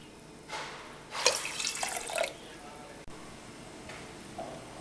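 Water is poured into a pan of cooked moong dal and milk for halwa, a brief splashing pour of about a second between quieter kitchen sounds, with someone speaking nearby.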